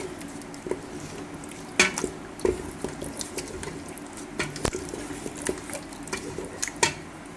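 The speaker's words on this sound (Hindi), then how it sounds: "अब फ्लेम को मैंने थोड़ा सा हाई कर दिया, अच्छी तरह से इसको हमने भून लेना है" Meat and turnip curry being fried in ghee in a pot over a high flame, with a soft constant sizzle and scattered clinks and scrapes of a stirring spoon against the pot.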